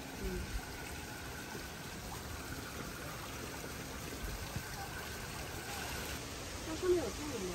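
A waterfall feeding a small clear stream, heard as a continuous, moderately faint rushing flow, with a brief voice sound near the end.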